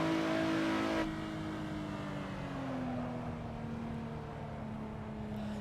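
Hypercar engine racing down a straight in the Assetto Corsa video game, a steady high-pitched drone that shifts tone slightly after a moment and holds its pitch, fairly quiet and alone.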